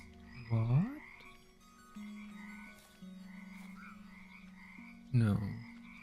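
Frogs croaking in the frog management game Mudborne, two loud, bouncy croaks near the start and end over a steady droning chorus, with no talking.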